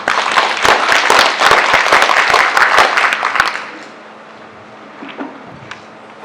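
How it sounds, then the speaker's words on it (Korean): Welcoming applause from the audience at a Korean poetry translation symposium, dense clapping for about three and a half seconds before dropping away to quiet room tone with a few stray claps. "환영의 박수를 쳐주십시오"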